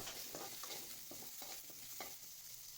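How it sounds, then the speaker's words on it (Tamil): Small onions and curry leaves frying in a pan, a steady soft sizzle with a few light stirring scrapes at intervals, close and quiet. "நான் கருவேப்பிலை இதில் ஆட் பண்ணிக்கிறேன். ரெண்டுத்தையும் நல்லா ஃப்ரை பண்ணிக்கலாம்."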